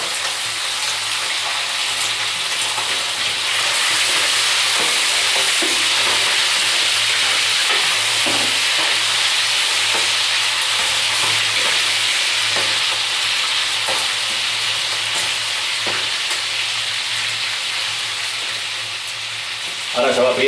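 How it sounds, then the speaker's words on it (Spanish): Salted meat frying in hot oil in a pan for a Spanish stew from Almería, a steady loud sizzle and hiss with occasional stirring scrapes, continuous throughout and close up. "Ahora se va friendo la carne"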